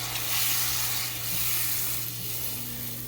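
Spice paste fries in oil with coconut milk in a pan, giving a steady, moderate sizzle and hiss that swells and eases slightly, with a faint low hum beneath and no talking.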